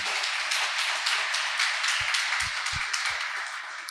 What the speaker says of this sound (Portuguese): Dê uma salva de palmas para o Senhor.